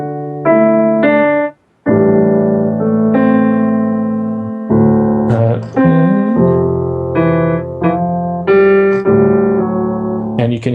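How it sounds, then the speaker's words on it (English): Star Citizen theme melody played by violas, a sequence of sustained bowed notes with brief pauses and phrase changes, full and clear throughout. "sounds like this, and it's playing in the violas"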